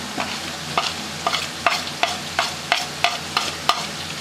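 Chicken being stir-fried in a pan, a utensil scraping and tossing in about ten regular strokes over a steady background sizzle, close and fairly loud with no talk.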